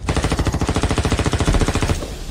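Rapid automatic gunfire in a drama scene, a loud sustained burst of evenly spaced shots for about two seconds before cutting off abruptly.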